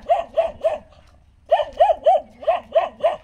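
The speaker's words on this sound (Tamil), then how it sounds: "இந்த நாய் கத்திக்கிட்டே இருக்கு" A dog barks near a farm field in a rapid run of three, pauses, then a longer steady series of loud close barks, with no speech over them.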